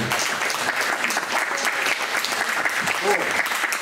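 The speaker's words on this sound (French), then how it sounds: "on va quand même vous applaudir" Audience applause at a French panel discussion, steady and dense throughout, filling the room with a continuous wash of clapping from many hands.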